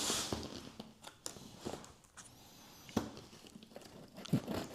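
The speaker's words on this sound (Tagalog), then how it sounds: "Unbox na natin siya." Product packaging being unboxed with scissors, close crinkling and rustling of plastic and paper in short irregular bursts with occasional sharp snips and taps, quiet and alone.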